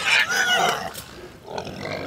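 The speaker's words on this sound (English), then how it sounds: "Now the pigs, they don't mind the rain at all." Pigs on a farm give a few short grunts and squeals in the rain, close and fairly loud, with no talk over them.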